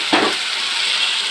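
Chicken curry, cooked in a little oil, sizzles steadily in a pan after a brief scrape of stirring at the start, leaving an even, close frying hiss.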